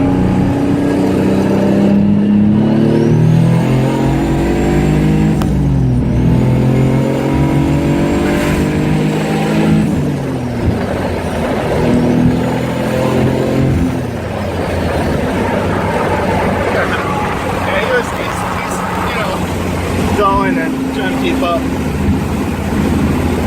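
A car engine accelerating hard in third gear, its loud rising whine sweeping up in repeated pulls. A voice can be heard at times over the engine.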